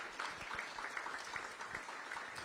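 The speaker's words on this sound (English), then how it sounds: "Keep that applause going." A crowd at a regional economic alliance launch event keeps applauding, a soft, distant-sounding roll of many hands clapping steadily with faint individual claps standing out.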